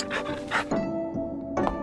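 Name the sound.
dog panting in VR game You Can Pet The Dog VR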